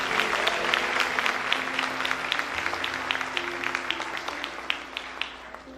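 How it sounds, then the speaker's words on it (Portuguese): A church congregation claps steadily during a Sunday worship service, the sustained applause continuing throughout with individual claps standing out sharply over the steady wash and a faint low hum underneath. "Então dá um aplauso ao Senhor Jesus"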